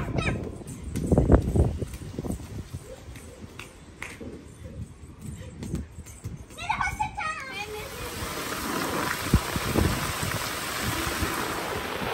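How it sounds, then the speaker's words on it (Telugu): Rain falls outside a home during a rainy spell after a hot dry season, a soft steady wash that thickens toward the end while children's voices chatter and play nearby. "ఇంత ఎండల తర్వాత ఇంత మంచిగా వర్షం పడుతుంటే చాలా ప్రశాంతంగా అనిపించిందనమాట"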